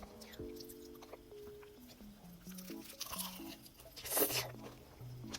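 Crunchy fried chicken with a crisp coated crust being bitten and chewed, with a louder crunch near the end over a steady backdrop of voices and music.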